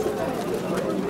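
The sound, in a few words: Rampuri pigeons cooing at pigeon market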